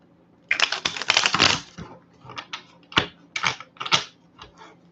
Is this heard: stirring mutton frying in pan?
no